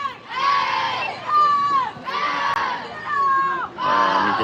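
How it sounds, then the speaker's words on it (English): Lamo supporters cheer at a girls' game against SHAQ, loud close crowd shouting in long surging waves with high shrill voices, each burst lasting about a second with brief dips between. "Wow, Lamo is just totally cheering."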